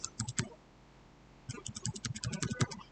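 Quick bursts of keystrokes on a computer keyboard during database work in Microsoft software, a short cluster of taps, a pause, then a longer, denser run of close, crisp clicks.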